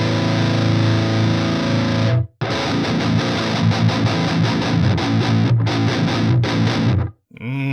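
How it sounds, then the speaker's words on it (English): Electric guitar played through the Mercuriall Euphoria amp simulator with power amp distortion and extra saturation, a loud, thick, sustained distorted riff that cuts out briefly twice. "you have that extra saturation and distortion from that power amp section"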